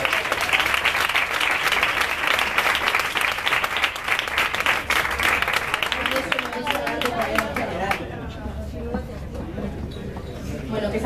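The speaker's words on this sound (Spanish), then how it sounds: "Un aplauso para la cocinera, por favor." Loud, dense applause fills a live comedy venue for about eight seconds before tapering off as a voice resumes talking over light crowd murmur.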